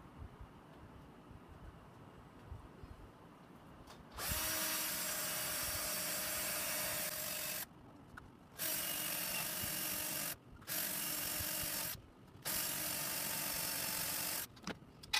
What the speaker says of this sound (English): This is a battery powered crappy drill, and it's going to take a second.